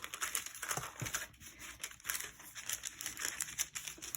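A sheet of parchment paper crinkles and crumples close up in a continuous, busy rustle with small sharp crackles throughout, no voices.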